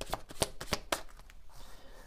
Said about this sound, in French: on va prendre deux cartes